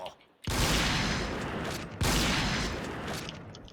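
Heavy gunfire bursts from the shooter video game Point Blank, two loud, sustained blasts of rapid shots that start abruptly and fade slightly, crowding out everything else.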